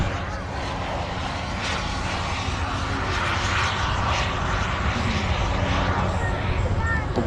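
An RC model turbine jet aircraft at a model show, its engine roaring steadily in the distance as a broad, continuous whoosh, with a voice talking over it.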